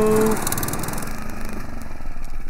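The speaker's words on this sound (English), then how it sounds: "You mowing the lawn?" A bright red John Deere riding lawn mower runs steadily, its engine droning with a rough, rattling pulse and no pauses.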